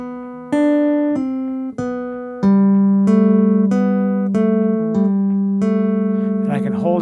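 Chapman Stick notes plucked one after another in a steady sequence, each ringing and sustaining under the next, ending with a held pair of notes, close and clear.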